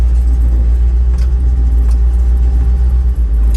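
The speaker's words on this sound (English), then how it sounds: "listen to the motor, and you can hear right now it's just chugging along" Car engine chugging at very low speed in gear, around 2 miles an hour without the clutch, a loud, steady, low rumble from inside the cabin, no voices.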